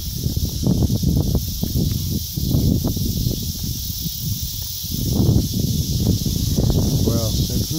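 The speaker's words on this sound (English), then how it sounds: "Don't you just love the sounds of nature? The wind, not so much." Wind gusts buffet the microphone at Lake Lawtonka, Oklahoma, a constant rumbling roar with a steady high hiss, swelling and easing over several seconds outdoors.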